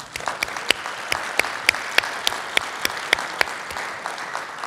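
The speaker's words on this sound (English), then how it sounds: "let's give them a round of applause" A conference audience at a space-settlement event gives a round of applause, a crowd patter punctuated by sharp, distinct claps from a few nearby hands, fairly loud throughout.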